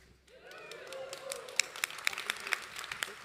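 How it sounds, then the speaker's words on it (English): Applause at a leadership symposium, starting as scattered individual claps and building into sharper, irregular clapping from the audience, with a voice briefly sounding early on. "Some applause for all of you"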